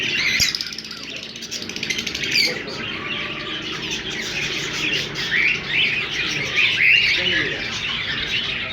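Parrots calling in an outdoor bird area, shrill chirps and squawks repeating throughout among other small birds, with someone talking over them.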